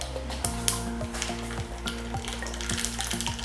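Mustard seeds spluttering in hot oil among browning onions for a Kerala moru curry, a dense close sizzle with sharp pops and crackles over a steady low hum, with no voices.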